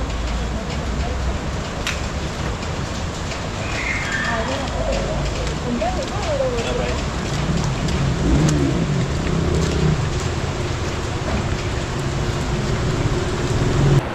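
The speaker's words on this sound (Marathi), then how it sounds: "पाऊस बघा एकदम नॉर्मल झिम झिम पाऊस." Light, steady drizzle falling around a group of people carrying umbrellas, a continuous soft hiss of rain under faint passing traffic and occasional voices, even throughout.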